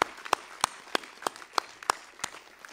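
Sparse, evenly spaced handclaps at a university graduation ceremony, the Asia Pacific University session with Staffordshire University, sounding like only a few hands clapping in a steady rhythm, fairly faint against a quiet hall.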